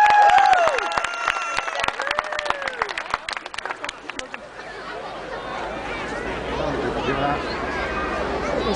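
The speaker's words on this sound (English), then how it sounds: "please, a huge, massive, warm round of applause for the performance by the Junior Glades Musical Society" A crowd applauds and cheers after a performance by a junior musical society, sustained clapping washing through the room, loud at first with a voice speaking over it, then settling into a steady, broad wall of applause.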